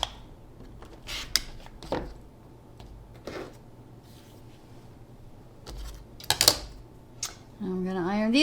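Scissors snipping and trimming quilt fabric, a handful of separate crisp cuts spaced irregularly in a quiet room, followed by a brief voice at the end.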